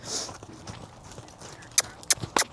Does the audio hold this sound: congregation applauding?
no